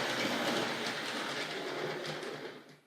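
A Tri-ang model train runs along its track with a steady, close whirring rumble and faint rhythmic clicking of the wheels over rail joints, fading away at the end.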